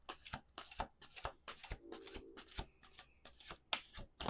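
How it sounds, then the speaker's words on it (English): Tarot cards are shuffled by hand at close range, a quiet run of soft riffling bursts and slaps in an irregular rhythm, with no talking. "Let's do two more shuffles."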